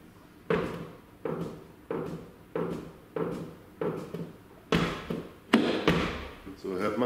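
Repeated solid thumps and clunks of a Dacia Duster II rear car door opening and closing, roughly ten at a steady pace, close and fairly loud, with a heavier rattling slam near the end.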